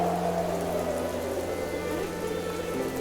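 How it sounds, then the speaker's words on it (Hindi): Heavy rain pours down steadily in a cartoon storm scene, a dense continuous hiss of drops with a low hum beneath, constant and close throughout with no speech. "बारिश इतनी तेज थी"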